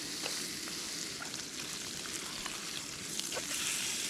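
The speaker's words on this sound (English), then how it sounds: "cook up a big steak." Thin cut steak sizzles steadily in a pan at a winter campsite in Alaska's freezing temperatures, a dense, even frying hiss with faint crackles throughout.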